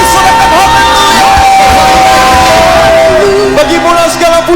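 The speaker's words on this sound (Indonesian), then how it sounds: "Lebih keras lagi sorakan haleluya." A church congregation at a Sunday worship service in Medan shouts hallelujah together, a loud, sustained roar of many voices with whoops and cheers over music.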